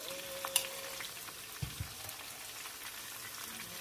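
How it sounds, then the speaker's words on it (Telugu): Bitter gourd pieces frying in oil with turmeric and salt for pickle, a steady soft sizzle with a few light stirring clicks and scrapes, close and continuous with no talking. "పసుపు, ఉప్పు వేసి మీడియం హీట్లో మగ్గబెట్టుకోవాలి. అవి బ్రౌన్ కలర్ వచ్చే వరకు చెక్ చేసుకుంటూ వేయించుకోవాలి."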